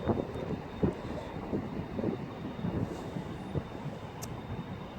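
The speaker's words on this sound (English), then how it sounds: "arriving in now is going to be the 1350 cross-country service to Manchester Piccadilly from Bristol Temple Meads" A cross-country passenger service from Bristol Temple Meads to Manchester Piccadilly pulls into Stockport station with a low, steady rumble, punctuated by soft rhythmic wheel thumps and faint squeals from the rails.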